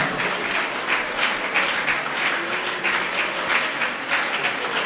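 A church congregation applauds the Lord together, steady sustained clapping from many hands filling the room with no voices standing out.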